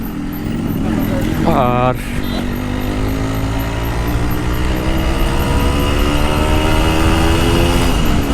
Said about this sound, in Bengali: রাইট নাও আমি রাইড করছি ইয়ামা RX-115